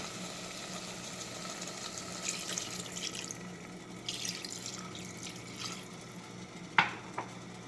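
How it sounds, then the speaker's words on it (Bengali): A small amount of water trickles into a pan of chicken being cooked down in oil, a low continuous pour with faint splashes and a couple of sharp utensil clicks toward the end. "তখন এর মধ্যে দিয়ে দেবো সামান্য জল।"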